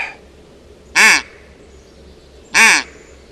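A duck call is blown in two separate short nasal honks about a second and a half apart, close and loud over quiet room noise, no talk.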